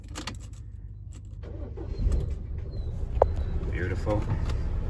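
A van's engine cranks and catches, then settles into a low, steady idle rumble, with small clicks and rattles nearby and a brief voice in the background.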